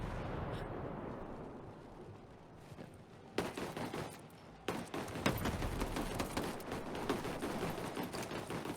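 Gunfire and a grenade blast in the Ghost Recon Breakpoint shooter game: a low rumble fades, then sudden bursts of rapid shots and sharp cracks crowd the scene at moderate loudness, with no voices.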